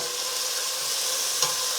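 Chopped onions hitting hot oil with cumin seeds for a mushroom masala curry, giving a steady, close frying sizzle and hiss that holds evenly throughout, with one brief clink near the end.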